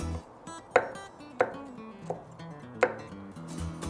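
A kitchen knife chops pepper and garlic finely on a cutting board while preparing a veal leg dish, giving a few separate sharp taps spaced irregularly, close and moderately loud.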